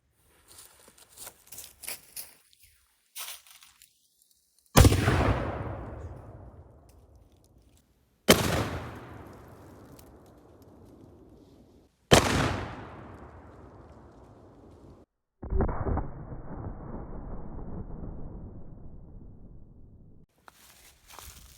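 A small cannon loaded with stone canister grape shot fires at a watermelon: four loud, sharp booms spaced a few seconds apart, each followed by a long rumbling decay outdoors, with faint rustling between shots.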